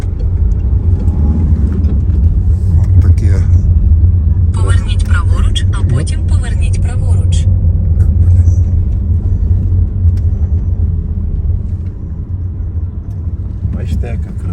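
A car drives through the streets of Barcelona, its steady low engine and road rumble filling the interior as people talk inside and faint traffic passes.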